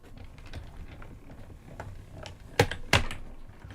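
A paper layer cranked through an embossing folder machine, soft gritty rolling texture that ends in two sharp clacks near the end, close and fairly quiet with no voices.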